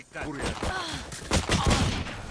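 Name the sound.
gunfire in the video game Valorant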